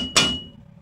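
A single sharp metallic hammer blow lands on a brake drum being knocked loose from a vehicle axle, ringing briefly and then decaying quickly.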